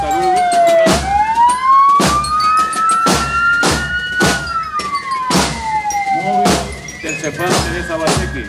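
A new emergency ambulance wails with a loud, close siren, its tone sweeping slowly up and back down, while sharp repeated bangs or drum-like hits punctuate it at roughly one-second intervals throughout.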